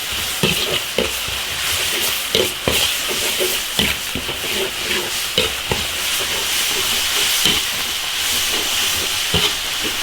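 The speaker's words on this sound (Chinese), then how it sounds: "生姜、辣椒、香料，炒香。" Ginger, chili and spices stir-fried in an iron wok: a constant loud sizzle and hiss with repeated scraping clacks of a spatula against the metal at an irregular, busy rhythm.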